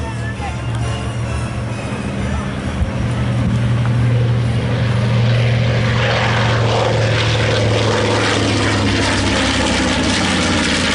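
A B-25 propeller bomber on its takeoff roll at the Rumble in the Redwoods Airshow 2024 gives a loud, steady, droning engine roar that swells slightly over eleven seconds. An announcer's voice is heard faintly beneath it.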